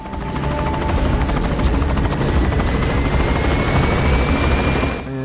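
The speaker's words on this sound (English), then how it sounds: "And that is not our helicopter, that's actually an enemy" An enemy helicopter's rotor thumps steadily and loudly overhead in the video game Metal Gear Solid V: The Phantom Pain, a continuous beating drone that cuts off abruptly near the end.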